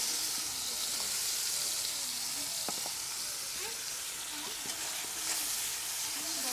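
A paste of onion, garlic and ginger sautéed in a pan for a meat curry makes a loud, steady hissing sizzle with a few faint utensil scrapes, close and continuous, with no talking.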